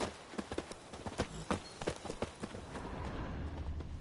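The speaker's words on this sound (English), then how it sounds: "Whoa there, Roach. We'll continue on foot." A horse in The Witcher 3: Blood and Wine gives a short run of clip-clop hoofbeats that slow down and stop. The steps are close and fairly quiet over soft game ambience.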